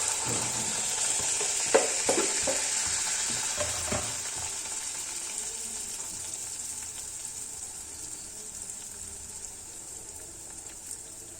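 Rice flour batter frying in hot oil, a continuous bright sizzle that gradually eases, with a few clinks and scrapes of a ladle early on and no talking.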